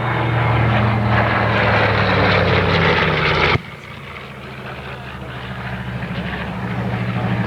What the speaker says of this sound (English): And here we have the B-25 Mitchell